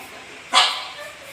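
A pet dog indoors lets out one sharp, angry bark, close and loud, over a faint background murmur.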